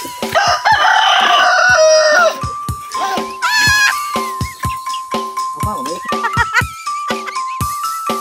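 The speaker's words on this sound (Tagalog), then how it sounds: "May manok, may tangalad." A native rooster on a rural Filipino property crows loudly and nearby, a long strained cock-a-doodle-doo followed by repeated shorter calls and clucking from other fowl, with goat-like bleats mixed in.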